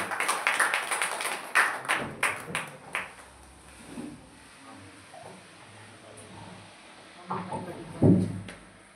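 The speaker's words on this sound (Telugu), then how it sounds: "గట్టిగా చప్పట్లు కూడా ప్రభు నామమున మేము పరుస్తాము." A church congregation claps loudly during a Telugu Christian service, a burst of sharp, fairly close hand claps in the first few seconds that thins into scattered claps, with a couple of louder claps near the end.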